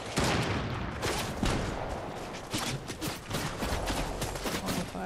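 Dense, rapid gunfire in the Warzone video game, with loud overlapping bursts and shots crackling almost without pause throughout.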